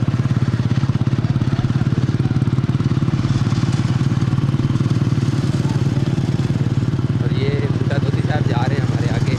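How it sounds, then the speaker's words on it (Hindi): Motorcycles approach from behind on a jungle road near the Pakistan–India border: a loud, steady, rumbling engine drone fills the whole stretch, close and continuous. "ये पीछे मोटरसाइकिल आ रहे हैं।"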